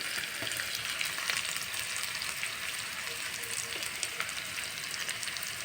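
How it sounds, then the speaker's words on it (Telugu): Thinly sliced onions fry in hot oil in a pan, giving a steady, close sizzle with light crackles throughout and no talking. "నూనె వేడెక్కాక ఇలా 2 ఉల్లిపాయలు సన్నగా కత్తిరించుకొని వేసుకోవాలి"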